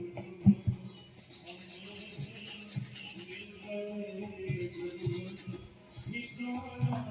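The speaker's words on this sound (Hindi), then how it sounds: "इसको रगड़ना है चेहरे के ऊपर ऐसा, हाथ रब करके" Hands rub sweat over the face during a yoga session, soft repeated brushing and skin-on-skin friction close by, quiet and uneven with small bumps and pauses.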